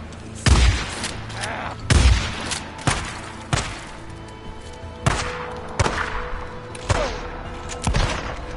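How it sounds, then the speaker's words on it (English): Shotgun fired repeatedly in the zombie survival game Days Gone, about eight loud, close booming blasts at a steady rhythm roughly a second apart, each with a short rumbling tail. "Shotgun time!"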